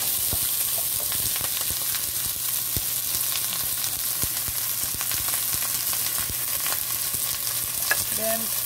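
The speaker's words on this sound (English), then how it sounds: "I'm gonna start adding in the onions and a little bit of ginger with that" Onions, ginger and green onion frying with salt fish in a hot pan give a steady, close sizzle that runs without a break, with light stirring scrapes and small pops scattered through it.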